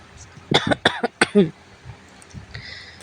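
A person coughs in a quick series of four or five harsh, close coughs, followed by quieter breathing and a faint throat sound.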